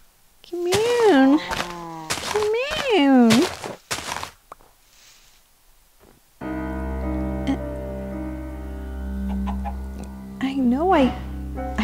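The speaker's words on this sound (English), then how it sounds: "Just heard a chicken and I just heard a cow." Minecraft chickens clucking in the video game, a few short pitched calls in two bursts near the start and another toward the end, with an ambient game drone and low hum running underneath.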